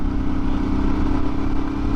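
A motorcycle cruises along a street on a camping trip, with a steady, loud engine drone and rumbling wind and road noise held evenly throughout, close up from the rider's position.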